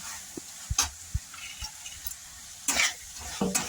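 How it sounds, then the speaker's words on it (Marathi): Misal mixture with bhel being fried in a pan: soft sizzling under scattered stirring taps and scrapes, with a couple of louder spatula clatters. "भेळ घेतली मिक्स ती पण आपल्याला त्याच्यात टाकून फ्राय करून घ्यायची अशी"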